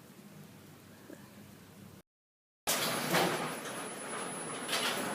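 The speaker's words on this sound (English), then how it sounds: "That's how slow our garage door is." A slow residential garage door grinds along its track after a snowstorm, a steady mechanical rumble and rattle that cuts out briefly, then returns louder and rougher with scraping rolls close by.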